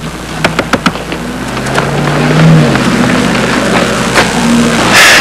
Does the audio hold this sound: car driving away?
yes